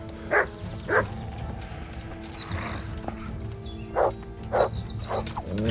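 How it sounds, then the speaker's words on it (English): A dog barks in the medieval video game Kingdom Come: Deliverance, giving about five sharp, separate barks spread across the moment over faint background game ambience. "I hate that I can never hit the damn dog."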